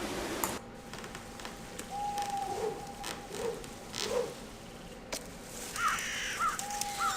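Crows caw repeatedly in the video game Dracula: Resurrection, several spaced calls at moderate distance over a steady ambient hum.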